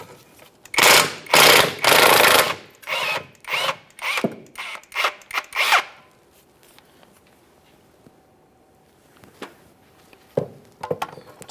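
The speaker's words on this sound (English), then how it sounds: "When removing these two 15mm mounting nuts" Loud bursts of a power ratchet or impact tool spinning off 15mm mounting nuts from the rear transmission crossmember on a 2011-2021 Jeep Grand Cherokee 3.6L V6, several repeated close runs, then quieter clinks and handling noises.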